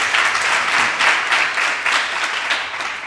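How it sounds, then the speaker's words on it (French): An audience applauds the young people present at a music single presentation, with steady, fairly dense clapping throughout a few seconds. "Donc je vous demande de vous applaudir, vous les jeunes, parce que vous avez été patients aussi."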